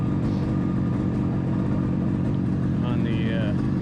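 Vintage motorcycle engine idling slightly high on a cold day after long storage, a steady low rumble running throughout at close range, with a person speaking over it.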